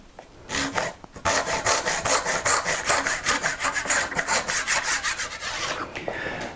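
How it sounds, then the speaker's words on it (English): A Lie-Nielsen 15 TPI tapered dovetail saw, run along a magnetic dovetail guide, cuts wood in a steady series of close, rhythmic rasping strokes, starting after a brief pause and continuing for several seconds. "we have a very nice Lie-Nielsen 15 TPI tapered dovetail saw, and it can be used in exactly the same way"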